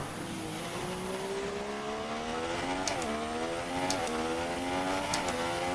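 An F1 car engine in the video game F1 2016 at the China circuit revs and drones continuously, pitch climbing and dropping with gear shifts, with brief sharp clicks between.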